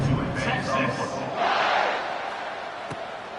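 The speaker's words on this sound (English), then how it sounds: "this crowd is feeling themselves after that last drive" A football stadium crowd roars and cheers after a scoring drive while the kickoff unit takes the field. The dense, loud crowd noise swells and then settles, and a commentator talks over it.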